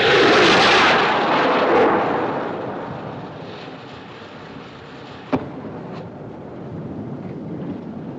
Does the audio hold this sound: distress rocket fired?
yes